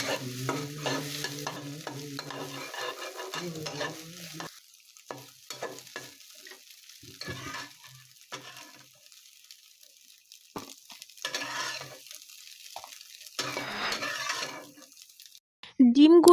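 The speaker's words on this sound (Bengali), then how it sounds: "কড়াইয়ের মধ্যে অল্প একটু তেল দিয়ে ফেটিয়ে নেওয়া ডিমটা দিয়ে ভেজে তুলে নেব" Beaten egg frying in a little oil in a wok, with repeated spatula stirring and scraping against the pan over an uneven sizzle. Quieter gaps come between the stirring bursts, and a steady tonal hum sits underneath at the start.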